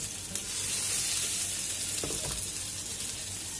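A hamburger patty sizzles steadily in a hot pan, a dense continuous frying hiss close up that runs the whole time without talk, with a few faint clinks.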